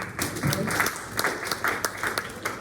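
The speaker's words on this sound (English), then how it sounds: "Let's clap it up for Toby." Applause from a seated audience at a practice training session, moderate and fairly steady for a few seconds with scattered sharper claps, slightly muffled and reverberant in the room.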